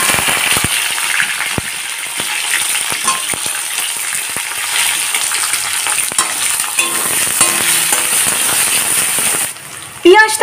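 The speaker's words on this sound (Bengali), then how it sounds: "বাকি তেলেতেই পেঁয়াজগুলোকে ভেজে নেব" Sliced onions fry in leftover oil with bay leaf in a pan for a light chicken curry, a loud, continuous close sizzle with crackling pops and occasional stirring, ending in a brief clatter.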